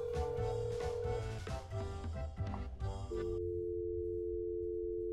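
Electronic telephone call tone in the horror game That's Not My Neighbor, a steady held beep ringing out over busy game music and effects, then continuing alone after the music cuts off.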